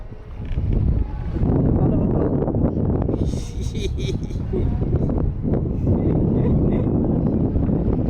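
Strong wind buffets the microphone in loud, rumbling gusts throughout, with people talking over it, on a river in the Sundarbans while net fishing, with waves present.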